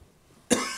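A single sharp cough from a man with a sore throat bursts out abruptly after near silence, close and fairly loud, with a rough noisy tail.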